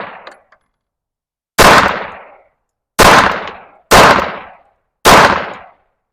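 Four sharp pistol shots from a Staccato C2 fitted with a Steiner MPS sight crack out at a range while being zeroed, loud and close, each followed by a brief decaying echo, spaced about a second apart after a quieter noise.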